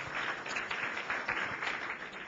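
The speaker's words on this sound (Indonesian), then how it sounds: "Tepuk tangan bagi nama Tuhan, saudara." A church congregation applauding, a soft, steady patter of many hands clapping together, heard faintly and briefly with no voices.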